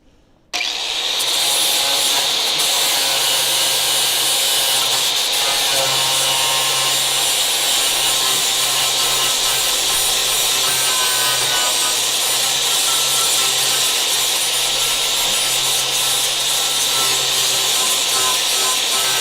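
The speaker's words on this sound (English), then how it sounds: "see if we can get the flap disc in there to get that little nubbin off" A flap disc grinding a small metal nub off a Dodge Charger crew cab car frame, a loud, continuous, close abrasive hiss that runs unbroken for the whole clip with no talking.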